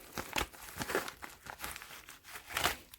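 Paper envelopes holding Yu-Gi-Oh trading card packs being torn and unwrapped up close, a string of crisp crinkling and ripping bursts at an uneven pace.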